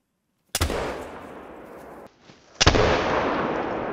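A black powder rifle firing twice in the hunting video game Call of the Wild, each shot a sharp loud crack trailed by a long rolling echo, with a short gap of near silence between the two blasts.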